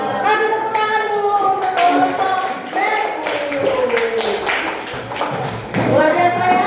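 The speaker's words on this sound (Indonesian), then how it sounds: "Kasih tepuk tangan dulu." Schoolchildren clap together in a classroom, a dense run of quick taps with loud voices and chatter mixed through the applause.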